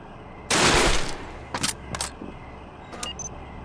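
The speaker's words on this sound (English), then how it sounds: "Breaching shotgun ready." A breaching shotgun fires in SWAT 4, set in the Fairfax Residence: one loud blast that rings out for about half a second, followed by a few shorter, fainter bangs and clicks.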